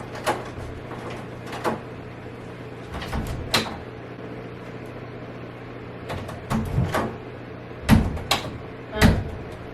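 A sticking sliding closet door, hung barn-door style, slides and bumps repeatedly in short scraping bursts with thuds, irregular and close, under a low background hum.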